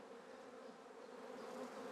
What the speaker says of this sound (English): nice calm bees, no running on the frame, good brood pattern